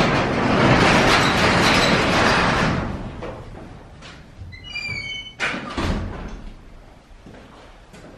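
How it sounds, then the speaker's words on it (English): Doors on a lithium Cushman Hauler Pro 72V utility golf cart close with a couple of solid thunks and a brief squeak, following a stretch of loud broadband noise. "we're gonna close these doors."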